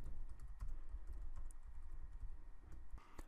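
Keys on a computer keyboard clatter in quick, uneven bursts while a post is written, close and fairly quiet, with a few sharper clicks standing out from the steady tapping.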